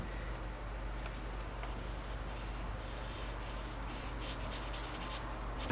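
A marker rubs across a wall while someone draws a small ghost figure and fills in its eyes, giving a close, continuous scratchy squeak with short strokes near the end and no talking.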